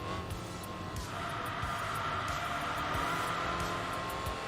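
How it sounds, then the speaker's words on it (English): Upgraded aftermarket exhaust on a Saab in the PS2 racing game Enthusia Professional Racing, a steady loud engine drone with rising tone and faint tire noise, continuous throughout. "the upgraded exhaust sound as well"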